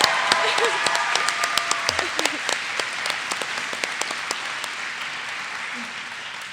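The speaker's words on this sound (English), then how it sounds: "So let's give her a round of applause." A lecture audience at Hampshire College claps for an introduced panelist, dense applause with sharp individual claps standing out, tapering gradually over several seconds, a voice briefly over the start.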